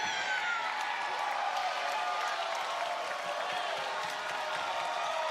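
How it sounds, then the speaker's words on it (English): Wrestling arena crowd at an AEW Dynamite event cheering and roaring, a dense, continuous wash of distant voices held at a steady level throughout. "You can hear the crowd erupting"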